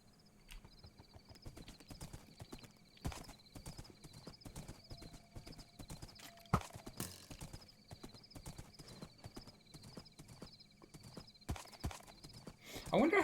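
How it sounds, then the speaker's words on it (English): Hooves of a vampire horse clip-clop in a video game, a steady, fairly faint rhythmic clatter running throughout with a person talking over it and a louder burst at the end. "I wonder how you heal a vampire horse."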